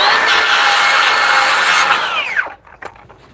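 A power saw runs at full whine through a cedar skirting picket for a deck, loud and close, then spins down sharply with a few light knocks afterward.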